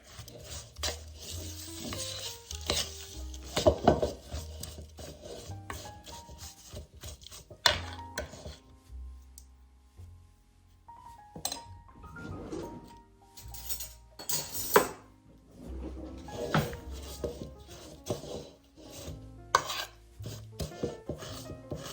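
Strawberry no-bake ingredients being stirred and scraped together in a bowl, with irregular clinks, knocks and scrapes of a utensil against the dish, fairly close and without talk.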